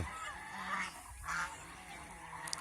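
Geese on a farm of several hundred birds honk in a few overlapping calls at a moderate distance, heard over a steady background murmur of the flock.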